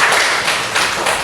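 A primary school class claps for a student in a lesson, a short burst of lively, slightly uneven hand claps with a few louder taps standing out, and no talking over it.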